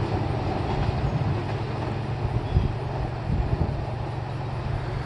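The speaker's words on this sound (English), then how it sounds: "a train is approaching the crossing" A SEPTA commuter train rumbles steadily past a road level crossing at close range, a low continuous roar with faint rhythmic clatter and no voices.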